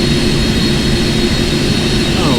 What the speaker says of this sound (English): Don't want to get too close to those big engines there.